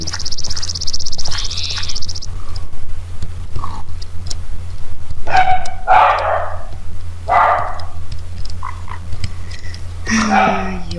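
In a Minecraft village, a game dog barks in several short, separated bursts over a steady ambient hum, with sharp synthetic tones and other game effects in between.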